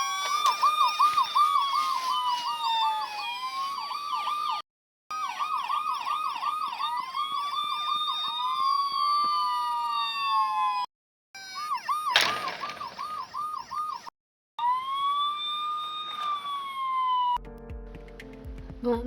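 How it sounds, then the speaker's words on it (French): A fire engine ladder truck's siren wails loud and close as it leaves the station for a call. Rapid warbling yelps alternate with long rising and falling wails, broken by brief silent gaps. "le camion échelle vient d'être appelé pour une intervention"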